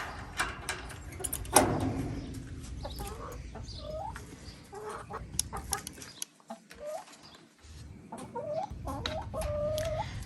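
Backyard chickens cluck and call near a greenhouse with short, repeated, fairly close clucks, mixed with rustling and mechanical clattering.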